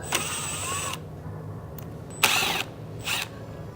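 A power driver removes T30 screws from a motorcycle crash bar, making three close, loud whirring bursts: one long run, then two shorter ones separated by pauses.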